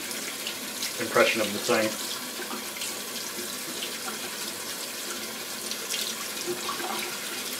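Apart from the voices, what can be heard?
tap water running while rinsing a makeup brush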